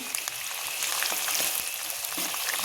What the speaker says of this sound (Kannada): ಎಣ್ಣೆಯಲ್ಲಿ ಸ್ವಲ್ಪ ಹೊತ್ತು ಬೇಯಿಸ್ಕೊಳ್ಳೋಣ. ಕರಿಬೇವಿನ ಎಲೆಯನ್ನು ಸಹ ಹಾಕ್ಕೊಳ್ತೇನೆ.